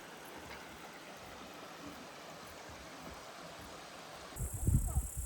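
A mountain stream babbles steadily in a gorge in the Northern Carpathians, a soft continuous trickle at moderate distance, ending in a sudden louder burst of close rustle or handling noise.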